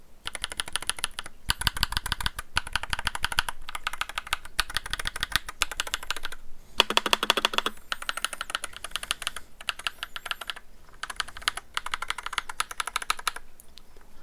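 Rapid, steady typing on a Royal Kludge RK61 Plus mechanical keyboard fitted with creamy blue switches, close and clear, with dense bursts of keystrokes and short pauses, no talking.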